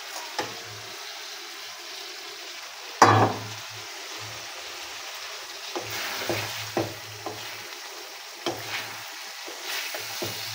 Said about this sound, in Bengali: তো মাছগুলো খুব আলতোভাবে আমি নাড়াচাড়া করে মশলার সাথে মিশিয়ে নেব।